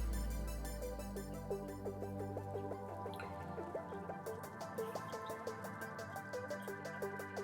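Water trickles and drips as a 90-gallon aquarium tank is drained, a faint, busy patter of droplets with quicker splashes toward the end and no voices.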